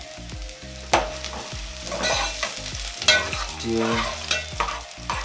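Chopped onions fry in hot oil for githeri, a steady sizzle broken by loud scraping and clattering stirs near the start and about three seconds in, with a low musical drone underneath.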